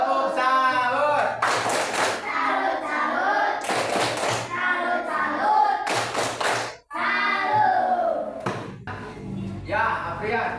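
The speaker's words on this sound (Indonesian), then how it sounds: "Tepuk salut." A fourth-grade class does a rhythmic salute clap in a classroom science lesson: several short, loud bursts of patterned group clapping, separated by a teacher speaking.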